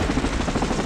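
Loud, dense helicopter noise roars continuously from inside the cabin of a helicopter in flight, filling the whole moment without any talk.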